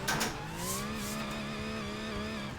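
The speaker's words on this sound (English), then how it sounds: "I'm gonna feather the throttle a little bit, transition really early and get right onto the wall" A drift car's engine holds a steady, buzzing note with the throttle feathered while it rides along a wall, the tone drifting only slightly, heard alone and moderately loud.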